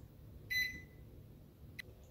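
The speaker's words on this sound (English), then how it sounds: "Then set a timer for around 30 minutes." Kitchen timer set after cake batter goes into the oven for a birthday cake, giving a short electronic beep burst followed a moment later by a second brief chirp, faint over low background hum.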